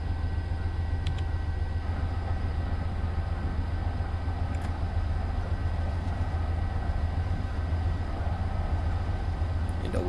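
A Metro-North commuter train in Train Simulator 2019 pulls away from Grand Central, its steady low engine and traction rumble droning evenly with faint rail clicks above it.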